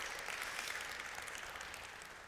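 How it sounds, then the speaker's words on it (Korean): A church congregation at a Sunday service in a Pasadena Presbyterian church applauds the choir, a brief, even wash of many hands clapping together at moderate distance. "우리 같이 격려의 박수를 한번 다시 드리면 좋겠습니다"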